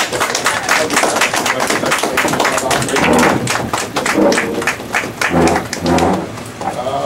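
Rhythmic hand clapping from a gathering keeps a steady, fairly loud beat throughout, with scattered thumps and background voices mixed in.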